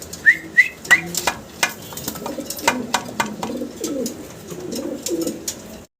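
White pigeons coo repeatedly in soft, rounded, close-up calls. A few sharp whistles come early, then a steady run of throaty cooing follows.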